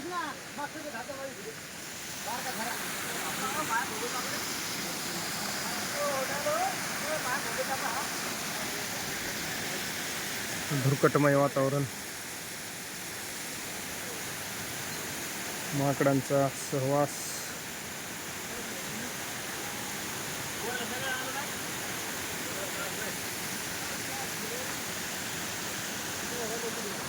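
Water rushes in a steady, broad roar from a waterfall flowing off Brahmagiri mountain, with someone narrating over it throughout.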